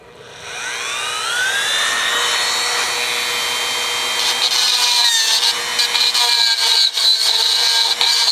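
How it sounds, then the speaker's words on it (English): A Dremel rotary tool spins up to a high whine and grinds into a part of a homemade overhead-valve Briggs engine, a close, loud, sustained cut with fluctuating pitch as it bites. "I'm gonna cut in here with the Dremel."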